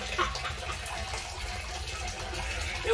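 Steady rushing water pours fast from a pipe, a dense hiss and gurgle close by with no pauses.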